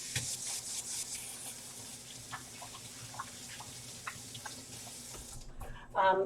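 Water runs from a kitchen tap into a sink while hands are rinsed beneath it, a steady splashing hiss lasting several seconds before the flow cuts off, followed by a brief rustle.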